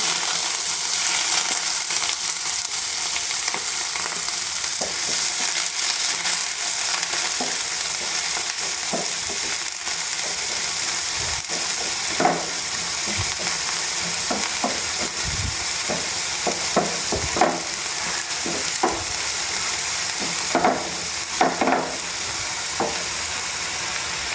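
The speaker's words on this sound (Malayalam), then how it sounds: "നമുക്ക് ആദ്യം ഉള്ളി ഇതെല്ലാം ചതച്ചതാട്ടോ അപ്പോൾ ചതച്ച ഉള്ളിയെങ്ങാനിട്ട് കൊടുക്കാം" Crushed shallots fry in hot oil in a pan, a loud, continuous sizzle broken by repeated scrapes and clinks of stirring, with no talking.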